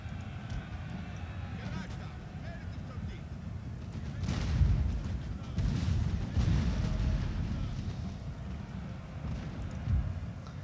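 Booming artillery fire in a Napoleonic-era strategy battle game, rumbling low volleys and blasts layered over a dense battle din, moderately loud and continuous.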